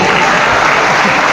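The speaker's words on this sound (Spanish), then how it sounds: "aplauso fuerte, que se oiga" Church congregation clapping loudly and steadily after a sermon, a dense close burst of applause filling the short moment.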